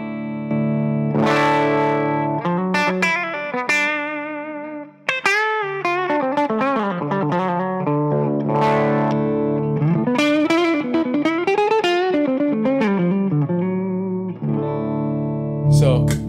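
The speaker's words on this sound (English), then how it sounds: "So here's the clean channel with the boost." An electric guitar plays through the clean channel of a Bogner 20th Anniversary Shiva amp with the boost engaged, giving loud, sustained, slightly driven chords and single-note lines close up, with no talking.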